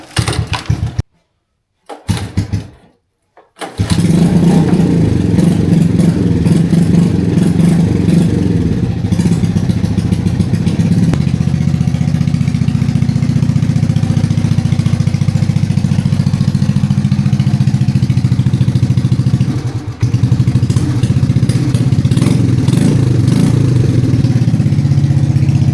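An old motorcycle bought off Facebook Marketplace is started after fuel and choke, then runs alone in a steady, close, loud idle for about twenty seconds, with a brief dip near the end.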